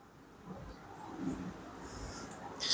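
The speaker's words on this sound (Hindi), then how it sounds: "अब मैं फोर्थ क्वाड्रेंट के लिए लिखता हूं।" Pen or marker scratching across a board or paper during a maths lesson, soft uneven strokes heard close and quietly, with no talking.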